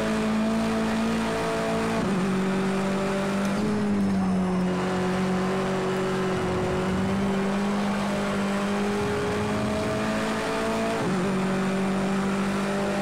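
Racing car engine in Project Cars 2, a continuous loud drone that rises and falls with gear shifts, dropping in pitch around two and eleven seconds before climbing again.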